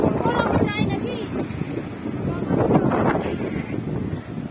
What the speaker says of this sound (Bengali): ভীষণ হাওয়া, তোমাদের দেখায়, দাঁড়াও।